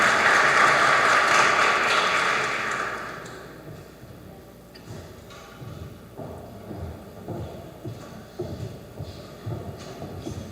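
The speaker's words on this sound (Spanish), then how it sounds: "Un fuerte aplauso, por favor, por su participación a la doctora María José Cruz Blanca." Conference audience applauding after a talk, a dense clatter of clapping that is loud at first and fades within a few seconds, followed by scattered faint taps and room noise.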